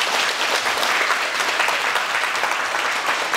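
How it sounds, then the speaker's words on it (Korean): Steady, full applause from an audience at a Sunday lecture, even and continuous with no pauses, filling the room without any voices over it. "가족들이 보니까 부부도가 제일 높은 도인데 너무 잘하시니까 큰 박수 부탁드립니다."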